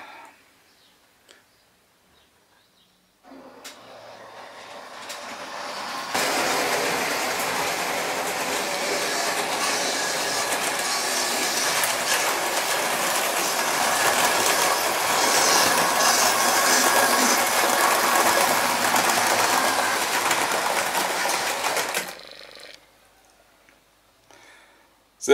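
A Märklin H0 model train pulls into a layout station after a platform announcement, its rolling clatter rising quickly and holding steady for about fifteen seconds before cutting off.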